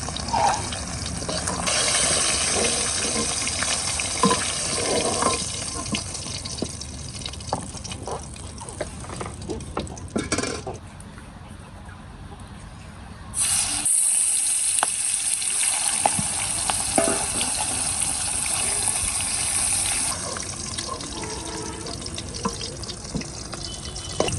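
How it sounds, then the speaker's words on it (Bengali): Rohu fish fry lightly in hot oil in a home Bengali kitchen, giving a steady, close sizzling hiss that dips briefly partway through, then resumes at full strength. "মাছগুলো যে আমি হালকা করে ভেজে নিছি, বেশি কড়া করে ভাজবো না।"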